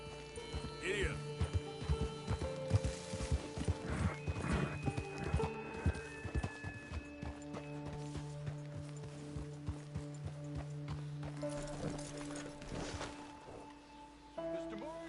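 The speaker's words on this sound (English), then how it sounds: "Thunder's been a good horse." The horse Thunder in the Red Dead Redemption 2 video game clip-clops steadily on hooves with a whinny early on, mixed with game music and ambient sounds while characters talk intermittently.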